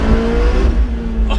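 McLaren 675 LT Spyder engine revving under acceleration while driving through a tunnel, a loud, close, droning roar with rising pitch that settles into a steady hum.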